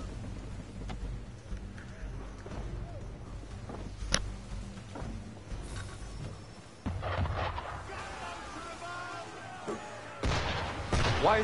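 Gunfire aimed at a ship in the video game Assassin's Creed III: booming shots and crackling blasts against a rumbling, rain-like background, growing louder and denser toward the end, with a voice speaking partway through.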